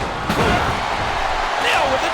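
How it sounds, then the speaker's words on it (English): A heavy body slam to the mat in the wrestling video game WWE SmackDown vs. RAW 2010, a loud thudding impact landing under excited commentary and crowd noise. "Just listen to his body crash into the ground."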